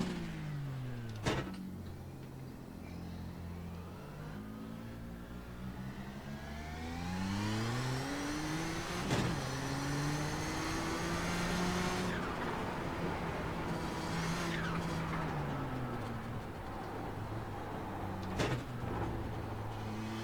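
Nissan GTP ZX-T race car in iRacing, its engine note rising and falling through repeated upshifts and accelerations, loud and continuous with sweeping harmonic pitch changes and no talking.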